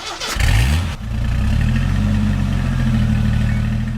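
A car engine cranks and catches, then settles into a steady, loud idle that rumbles on for several seconds with no talking over it.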